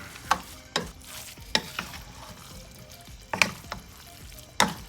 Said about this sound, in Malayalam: ഇത് നല്ലതായിട്ട് മിക്സ് ചെയ്യണം.